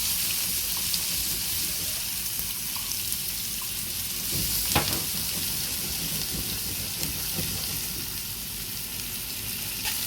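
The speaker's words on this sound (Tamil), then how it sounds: "வெங்காயம் நல்லா தாளிக்கட்டும்." Onions fry in hot oil with mustard and fennel seeds, giving a steady close sizzle and hiss with a few faint pops and stirring scrapes, and no voices.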